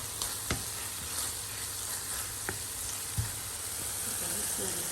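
Spicy Korean pork bulgogi with onion sizzling in a pan, with a steady frying hiss and a few soft clinks of a utensil stirring, faint and close.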